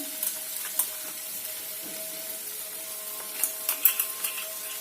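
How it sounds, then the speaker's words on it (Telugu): Ground paste going into a hot frying pan for a Telugu broad-bean (goru chikkudu) curry, giving a quiet sizzle with a scattering of scraping stir strokes that grow more frequent toward the end. "మిక్సీ పట్టుకున్నది దీంట్లో వేసేసుకుందాం"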